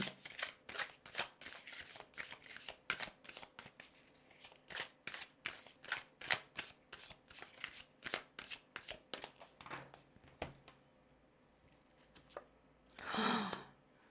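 Tarot cards shuffled by hand, a fast run of crisp riffling flicks for about ten seconds, then scattered slaps as cards are drawn and laid down, close and fairly quiet.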